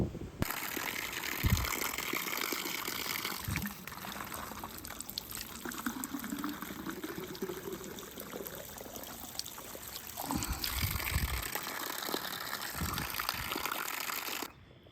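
Water trickling and pouring steadily while being collected on a river trail along the Allegheny River, a continuous close gurgling stream lasting throughout, with a few soft bumps and handling knocks.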